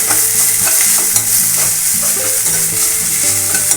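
Drumstick leaves fry in oil with a steady, loud sizzle and occasional stirring clinks, and no one speaks.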